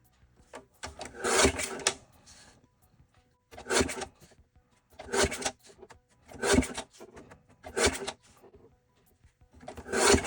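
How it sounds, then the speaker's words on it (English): Scrapbook paper is cut into 1-inch strips on a trimmer. There are about six separate scraping, rasping strokes, each lasting under a second, with short pauses between them. The sounds are close and fairly quiet. "So I'm going to cut these into 1-inch strips."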